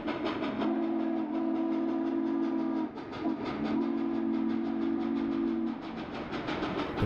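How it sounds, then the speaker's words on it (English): Western Maryland 734 steam locomotive sounds its whistle while nearing Brush Tunnel in winter, two long sustained blasts separated by a brief break, loud and close over the rumble of the moving train. "734 whistles as it approaches Brush Tunnel to warn any hikers or bikers in the area."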